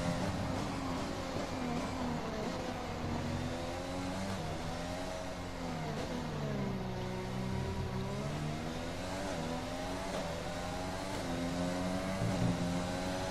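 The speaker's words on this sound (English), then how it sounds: "What can he do with his Red Bull racing car?" A Red Bull Formula 1 car engine in the racing video game F1 2020 at the British Grand Prix, a continuous high-pitched engine whine rising and falling with gear shifts, steady and loud with no talking.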